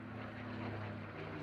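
A Mustang fighter aircraft with a Merlin engine flying at the RAF Cosford air display, a steady distant propeller drone with a low engine hum, faint and continuous without talk.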